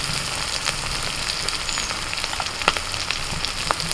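Ground turmeric, cumin, black pepper, coriander and Kashmiri chilli powders fry in oil for a vegetarian biryani made without onion or garlic, giving a close, continuous crackling sizzle with scattered sharp pops and spatters.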